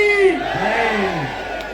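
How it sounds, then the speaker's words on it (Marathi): At a traditional kushti wrestling event, a large crowd roars a loud, unified chant response, one sustained shout lasting under two seconds. "बोलो बजरंग बली की"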